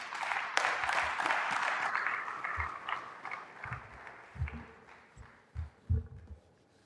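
Audience applause at a university awards ceremony swells in a dense burst of clapping that thins into scattered claps before fading, heard in a large hall.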